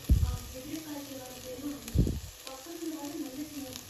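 Potato, beans and cauliflower sizzle in a pan with turmeric and coriander powder, giving a soft frying hiss broken by two sharp clanks of a spoon stirring against the pan.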